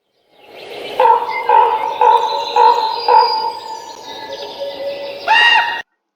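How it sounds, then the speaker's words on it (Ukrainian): A crow calls loudly in a series of harsh, repeated caws at a steady rhythm, ending with a stronger final call, close and clear. "Дуже знайомий звук. Хто ж так співає? Правильно, ворона."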